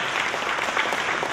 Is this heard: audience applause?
yes